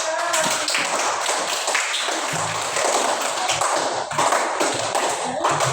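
A class of students claps hands together in a classroom, uneven bursts of near, sharp claps with some taps and thumps, mixed with brief voices.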